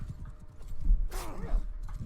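Horses' hooves clop and thud on the ground during a battle in Mount & Blade II: Bannerlord, irregular close impacts with a horse's whinny in the middle and faint mechanical creaks.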